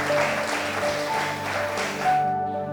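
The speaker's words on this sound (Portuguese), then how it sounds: "Pode aplaudir o Senhor mesmo." A church congregation claps steadily for about three seconds during a worship service, the dense applause washing over sustained musical tones before it fades.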